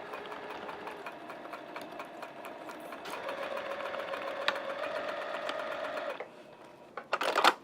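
Sewing machine running a lock stitch along a pouch seam of cork or vinyl, a fast, even mechanical chatter that speeds up midway and stops near the end, followed by a few brief clunks of handling.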